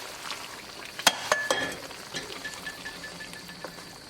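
A spoon stirs dal and spinach in a cooking pot, with a few sharp metallic clinks early on followed by soft, faint scraping and mixing over a quiet sizzle.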